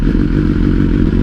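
A 2022 BMW S1000R motorcycle engine idles loud and close, a steady, dense rumble with a fast lumpy pulse and no pauses.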